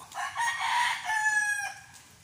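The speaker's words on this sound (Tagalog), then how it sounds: "Yung mga manok ni tropa oh." A rooster crows close by in Baguio City, one long loud cock-a-doodle-doo rising and then trailing off over about two seconds, with no talk over it.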